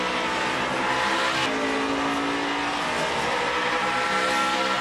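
NASCAR stock cars racing side by side near the end of a race, engines roaring in a continuous loud drone with shifting pitch as cars pass, a steady wall of engine noise throughout.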